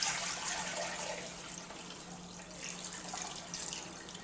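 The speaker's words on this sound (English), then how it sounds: "All the liquid is going to go into a new pot." Strained liquid from soaked dandelion petals pours steadily into a pot, a continuous close splashing trickle with no pauses.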